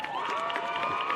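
Dense clapping and murmuring from a basketball game audience, continuous and fairly loud, with no voices standing out.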